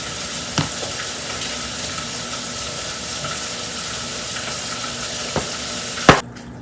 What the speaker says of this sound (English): You can hear that popping, that's the onions.